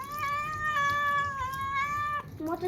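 A Persian cat meows continuously during a bath, one long drawn-out plaintive cry close by, then a short rising meow follows, with no talking.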